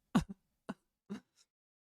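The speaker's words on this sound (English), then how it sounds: "Cough, cough." A person clears their throat and gives a few short, dry coughs, spaced out and close by, with silence between.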